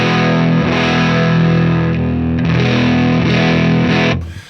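Electric guitar on its bridge humbucker, run through a POD Go preset, rings out with a dense, driven tone, sustaining steadily for about four seconds before fading at the end.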